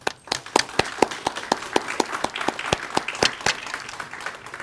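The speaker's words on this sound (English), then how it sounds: "let's clap for our new members" At an honor society induction ceremony, a small audience claps in quick, sharp, fairly regular beats, the individual hand claps distinct and close.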